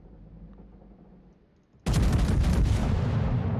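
Naval guns firing high-explosive shells in a naval battle video game, a sudden loud close blast after quiet that rolls into a sustained heavy rumble of salvo fire, no talk.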